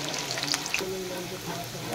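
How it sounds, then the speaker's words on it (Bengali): Radish pieces frying in hot oil, with a soft, steady sizzle and some faint clinks over two seconds; no talking. "লাল লাল করে মূলোগুলো ভেজে নেব।"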